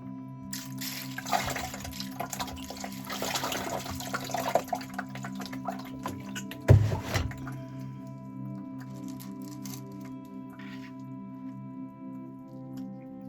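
Water trickling and dripping over an agate slab on a lapidary saw, a steady soft wet patter with squishy splashes and one louder spatter partway through, fairly close.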